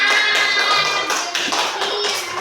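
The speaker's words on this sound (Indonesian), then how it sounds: "Tepuk tangan untuk kita semuanya." Schoolchildren in a primary classroom clap together in a short, bright burst of hand claps, close and loud, with faint voices mixed in.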